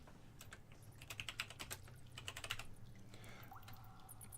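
Rapid bursts of typing on a computer keyboard, close and fairly quiet, with clustered clicks and short pauses over a low steady background hum.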